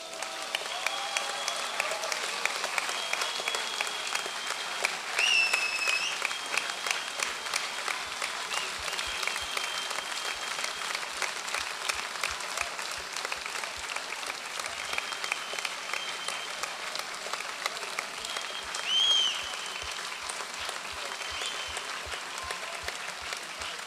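Sustained applause from an audience at a tribute concert in Sárvár, steady dense clapping throughout, with a brief louder swell near the end.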